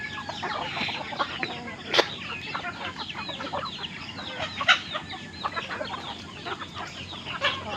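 Brahma chickens with heavily feathered feet cluck and squawk in a busy farmyard flock, many overlapping calls and sharp bursts at close range, with occasional louder cries.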